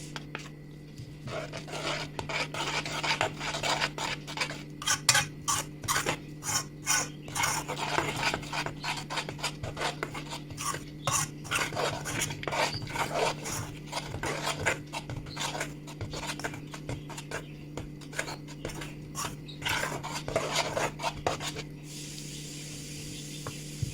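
Flour stirred by hand into chocolate sponge cake batter in a bowl, giving a steady run of close, rhythmic scraping and rubbing strokes over a constant low hum, with no talking.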